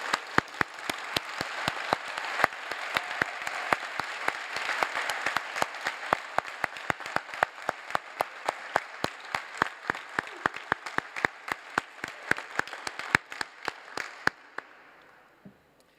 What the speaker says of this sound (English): can we just give them a huge round of applause?